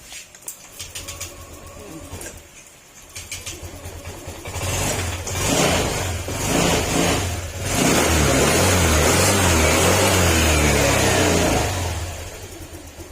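A repaired motorcycle engine that had a ticking fault starts and runs close by, climbing from a rough idle to a loud, steady, throbbing drone that holds to the end.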